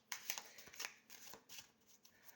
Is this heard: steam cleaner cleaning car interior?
no